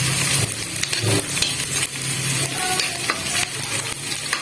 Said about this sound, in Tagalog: Medyo papupulahin lang natin ng konti yung sibuyas mga kapak bago natin ilaglag yung baka.